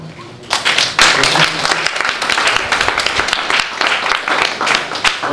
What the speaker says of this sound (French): Il reste à applaudir Jacques.